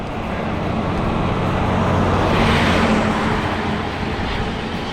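A car rolls past on an open road during a long road bike ride, a steady broadband whoosh of tyres and engine that swells slightly in the middle and fades, with no talking.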